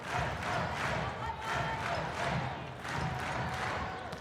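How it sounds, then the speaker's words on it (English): Crowd cheering and roaring at a Virginia vs. Pitt college volleyball match in Fitzgerald, a broad, pulsing swell of arena noise heard at moderate distance. "Great crowd coming alive here in Fitzgerald"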